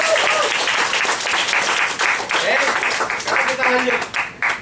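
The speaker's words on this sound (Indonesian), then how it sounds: "Kalau sepakat tepuk tangan dulu." An indoor audience at a seminar on network marketing breaks into loud, sustained applause that fills the whole stretch, with a speaker's voice briefly audible over the clapping.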